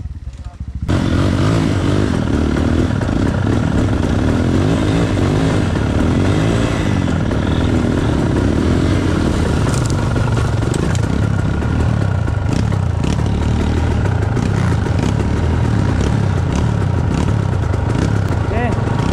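A dirt bike engine revs loudly and continuously nearby, rising and falling in a rough, clattering roar.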